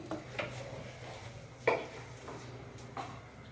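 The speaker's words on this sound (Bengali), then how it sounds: "পালং শাকের পেস্টটা এতে দিচ্ছি। আপনারা যেমন গ্রেভি রাখবেন সেইভাবে করবেন। ভালো করে মিশিয়ে দিই।" Spinach paste being stirred into gravy in a cooking pan, with faint scraping and a few light clinks of a spoon against the pan in a slow, irregular rhythm, heard alone.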